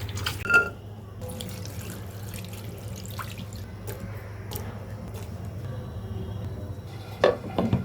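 Cut pumpkin peel is washed in a kitchen, with faint running water and small splashes, drips and clinks of a bowl, quiet and intermittent.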